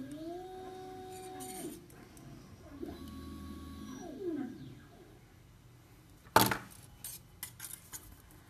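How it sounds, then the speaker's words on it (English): A Form 2 3D printer runs with whining motor tones that glide up and down in separate passes. A sharp clack follows later, and then scattered small mechanical ticks over a quiet background hum. "It's a Form 2 3D printer."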